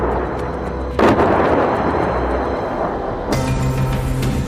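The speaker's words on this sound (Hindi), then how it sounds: "तुर्की के गृह मंत्रालय के प्रवेश द्वार के पास एक विस्फोट हुआ" An explosion near the entrance of the Turkish interior ministry, caught in news footage, erupts as a sudden loud burst followed by a rumbling wash, then a second sharp report with sustained noise afterward.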